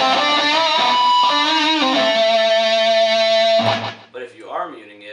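Distorted electric guitar notes, picked without muting, ring out with sustained overtones for several seconds, then cut off, leaving a brief spoken voice.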